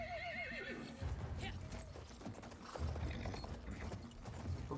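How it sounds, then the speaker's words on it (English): A horse in the video game Battlefield 1 gives a loud whinny at the start, followed by steady clip-clopping hooves galloping close by for several seconds. "Alright, so let's get on this horse."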